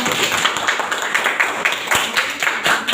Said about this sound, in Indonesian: Oke, kasih tepuk tangan dong untuk kelompok 1.